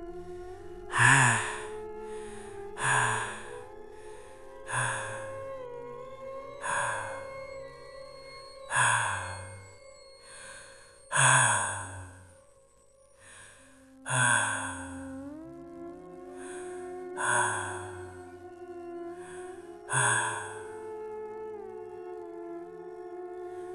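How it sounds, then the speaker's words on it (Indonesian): Heavy, deep, broken breathing as a horror sound effect, set in a train carriage from the seat opposite: about ten loud gasping breaths repeat every two seconds or so over a low, eerie sustained drone. "Suara tarikan napas berat, dalam, dan terputus-putus."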